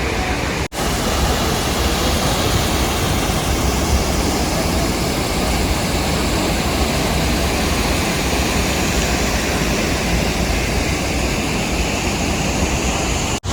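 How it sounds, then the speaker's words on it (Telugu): Athirapilly waterfalls in Kerala roaring, a dense, loud, unbroken rush of falling water that holds steady the whole time. "ఇది చాలా పెద్దగా ఉంది వాటర్ ఫాల్స్"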